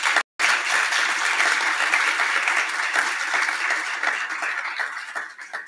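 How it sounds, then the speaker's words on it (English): Conference audience at a generative AI panel session applauding the panelists, dense sustained clapping that fills the room after a brief gap and fades near the end. "Please give them a round of applause."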